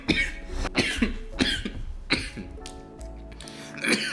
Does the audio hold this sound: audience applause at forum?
no